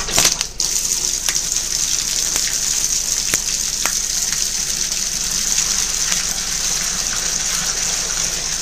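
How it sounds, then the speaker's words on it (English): Cold water gushes hard from a sink tap into a Hoover washing machine, a loud, steady, close rushing stream that goes on without a break and without any voices. "This doesn't take very long to fill up on this sink, which is kind of nice. It has a lot of water pressure."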